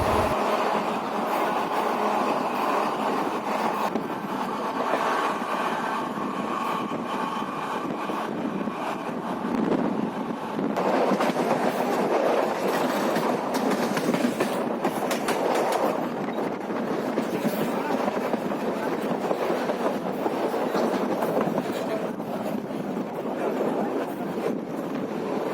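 A Tirupati–Chennai MEMU Express train runs on rails near Kadambattur station, heard from inside the carriage as a loud, constant rumble with rhythmic wheel clatter and rushing wind noise throughout.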